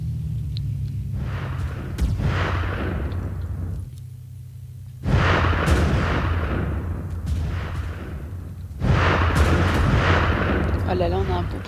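Gunfire in the Battlefield video game at a windmill sniper spot, with heavy booming shots and rumbling bursts recurring every few seconds, roughly three loud volleys with a continuous low drone between them.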